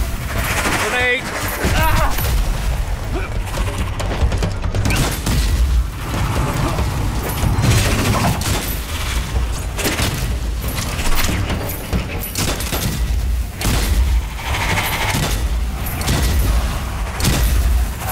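Grenade blast and sustained gunfire in the shooter game Strange Brigade, loud dense bursts of rapid shots and booms layered with game music and effects, continuous for the whole stretch.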